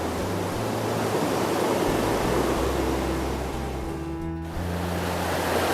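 Creek water rushing steadily beside a hiking trail along Deep Creek in the Great Smoky Mountains, a loud, continuous broadband roar of flowing water that briefly dips near the end before resuming.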